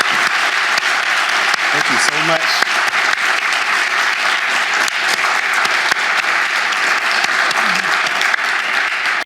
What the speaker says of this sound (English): let's give a round of applause to the Attorney General